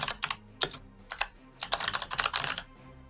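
Keyboard typing from a player on a game dev stream, with irregular bursts of clattering keystrokes, some quick runs and some single taps, close and fairly loud with no talking.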